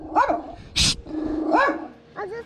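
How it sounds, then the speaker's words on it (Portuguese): A dog barks from inside a kennel, out of sight, giving about four sharp barks spread unevenly over a couple of seconds, some muffled and one loud and close. "Ele tá latindo aqui dentro."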